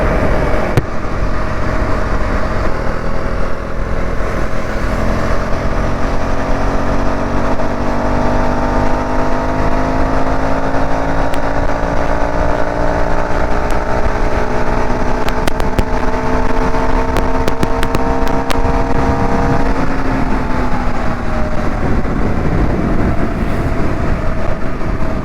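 A Husqvarna Svartpilen 401 motorcycle engine drones loud and steady while riding, its pitch climbing slowly through a gear, then dropping at a shift near the end amid constant wind and road noise.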